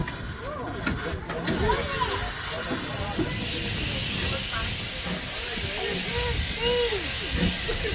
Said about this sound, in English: get a little steam train before the game